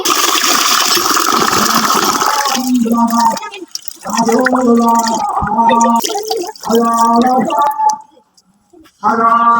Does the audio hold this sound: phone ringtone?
no